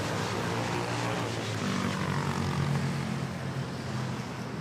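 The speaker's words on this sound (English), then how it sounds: "We have a Philippine Airlines A321 on final approach arriving from Tokyo, Narita." Philippine Airlines Airbus A321 on final approach into Manila Airport, arriving from Tokyo Narita: a steady, loud jet roar with broadband rumble, holding constant throughout with no voices.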